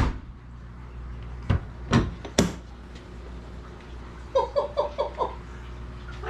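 The door of a 1969 Lotus Europa is worked: a few sharp knocks and thuds from the latch and panel, followed by a quick run of soft rattling clicks, close by in a quiet space.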